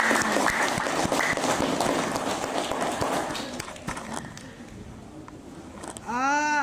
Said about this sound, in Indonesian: Kita tepuk tangan untuk kelas 10 IPA 2 semuanya.